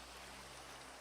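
Flowing river water in the game Minecraft, a steady soft rushing wash that holds evenly throughout, faint and alone without voices.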